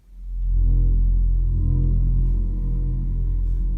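A keyboard plays a sampled Echoes patch, a deep, droning low rumble that swells in over half a second and then sustains steadily with a faint, hazy upper shimmer, with no talking.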